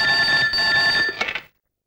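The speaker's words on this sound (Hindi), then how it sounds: "हम नरेश के फोन करतानी" A telephone rings with a steady, bright electronic trill held for over a second, then breaks into a few quick pulses and cuts off to silence.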